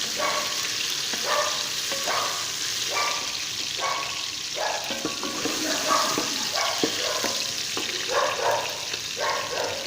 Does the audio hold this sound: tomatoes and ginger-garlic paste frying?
yes